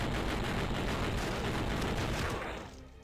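Gunfire in the video game Crazy Flasher 5, a dense, loud barrage of rapid shots blending into a continuous roar that fades out near the end, with no talk.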